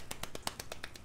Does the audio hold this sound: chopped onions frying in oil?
no